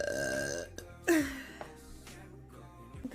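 One loud, close belch from a woman lands mid-clip, preceded by a brief voiced sound and followed by quieter breathy noise.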